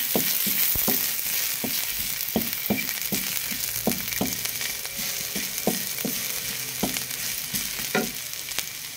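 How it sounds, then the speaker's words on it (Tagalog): Garlic sautés in hot oil left from frying tilapia, giving a steady close sizzle punctuated by regular sharp clicks of a utensil stirring against the pan, with no talking. "Tapos magigisa na po tayo mga kuragon."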